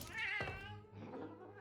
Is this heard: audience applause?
no